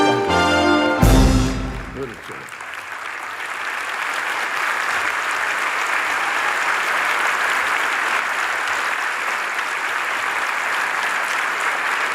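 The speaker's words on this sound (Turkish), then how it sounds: "Gülsen Tuncel geliyor alkışlarınızla." Audience applause fills a hall at the opening ceremony of the 41st Istanbul Film Festival, a steady, dense wash of clapping that swells after a brief musical sting at the start and holds loud and even throughout.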